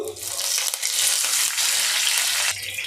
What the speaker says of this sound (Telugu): ఆయిల్ హీట్ ఎక్కిన తర్వాత పోపు దినుసులు అండి జీలకర్ర ఆవాలు మినబ్యాలు శనగబ్యాలు కొద్దిగా నెక్స్ట్ ఇందులోకి కరివేపాకు